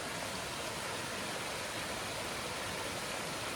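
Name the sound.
small waterfalls along a river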